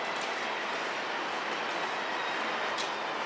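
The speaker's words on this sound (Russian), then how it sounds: "Вот поезда бесшумно ездят здесь." A steady, soft rushing rumble of a train gliding past on the Moscow Central Circle at Baltiyskaya station, smooth and quiet without clear wheel clatter, filling the whole stretch evenly.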